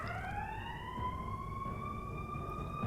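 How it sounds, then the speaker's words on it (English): A siren wails steadily in the distance, its tone rising slowly, faint and muffled as if heard from indoors. "That is a very loud siren outside."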